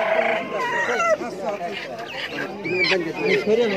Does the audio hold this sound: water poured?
no